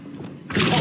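A Confringo blasting spell explodes in Hogwarts Legacy, a sudden broadband burst about halfway through, following quieter rumbling game sounds, loud and close with no talk.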